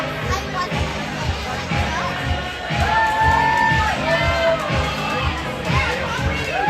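A crowd at a high-school hockey game between Stillwater and Waukesha cheers and shouts in a large echoing arena, children's voices and whoops rising over a steady roar, with music playing underneath.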